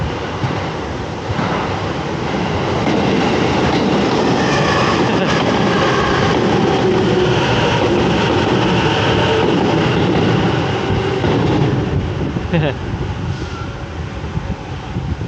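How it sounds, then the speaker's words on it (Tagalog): A train rumbles steadily past at close range, a broad continuous roar with clattering and screeching that stays loud for the whole stretch. "tabi ng rail din. Eh, tren no?"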